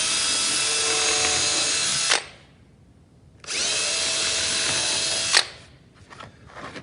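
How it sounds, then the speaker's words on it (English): Power drill boring through a wooden board, two sustained bursts of high whirring with a pause between, ending in brief clicks and handling noises, close and alone. "pull the trigger, let the drill bit fall through the material"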